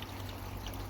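Water trickles steadily from a DIY spillway into a koi pond outdoors on an overcast day, a continuous soft pouring wash with a low hum underneath and no talk.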